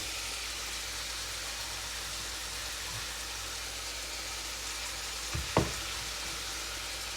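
Garlic and onion sauté in a hot pan, giving a steady, even sizzle that hisses continuously throughout, with a brief clatter of a utensil near the end and no voices.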